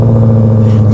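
A Shelby GT500KR engine rumbles loud and close in a deep, steady tone that rises slightly at the end, with voices mixed in.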